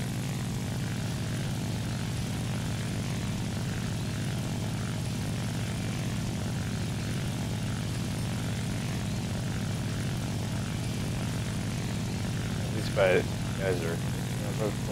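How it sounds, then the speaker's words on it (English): Propeller engine of a Ki-43-III fighter in flight in War Thunder, a steady loud droning hum held throughout, with a brief burst of gunfire or impact noise near the end. "This little plane is fun to fly."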